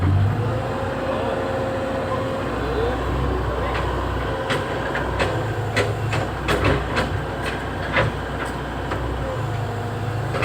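A Komatsu PC130 excavator's engine, with a fault that leaves the machine unable to move, drones steadily throughout, its low rumble shifting slightly in pitch as the revs change, with sharp metallic clicks and taps near the middle.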